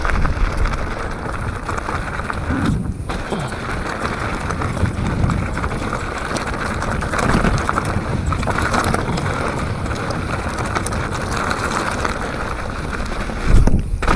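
Strong wind buffets and roars steadily across the microphone in gusty, rumbling waves at a mountain bike jump spot in Jeddah, with water sloshing faintly beneath and no voices.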